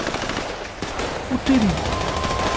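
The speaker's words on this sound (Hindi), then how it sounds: "चारों तरफ से गोलियां चलने की, चीजों के ब्लास्ट होने की, चिल्लाने की, लोगों सबकी आवाजें आ रही है" Rapid bursts of automatic gunfire rattle near and loud during a mansion attack in Grand Theft Auto V, over a dense, noisy battle background.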